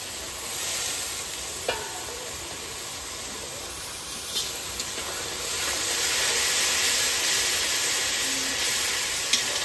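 Mutton fries outdoors in a large pot while it is stirred, giving a loud continuous sizzle and hiss with a few scraping clinks of the spoon, steady throughout with no talking.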